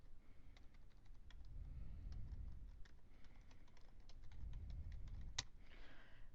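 Soft, quick keyboard typing in irregular bursts of clicks, close by and quiet, with a brief pause midway and no voices.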